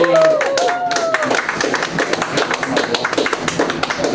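A small live comedy audience claps for a comedian coming on stage, a scattered, modest patter of hands with brief vocal sounds near the start and a voice over it.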